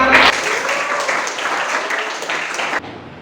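Classroom of students clapping for a classmate, a short burst of close, fairly loud applause lasting about three seconds before cutting off.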